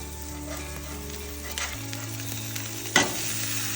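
Sausages sizzle steadily on a Blackstone griddle, a continuous close frying hiss with a low hum underneath, broken by scrape-like clatters near the middle and a sharper clack toward the end as they are turned.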